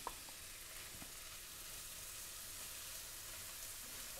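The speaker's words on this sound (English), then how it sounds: "put in the finely chopped onion into the melted butter" Finely chopped onion fries in melted butter in a preheated pan, giving a soft, steady sizzle that stays faint and even, with a small tap at the start.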